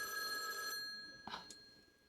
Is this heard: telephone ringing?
yes